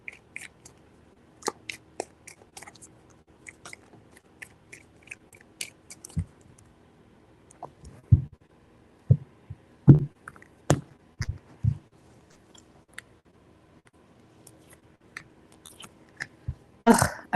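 Tarot cards are shuffled in scattered soft riffles, snaps and slides, irregular and mostly quiet, with a few sharper clicks and taps.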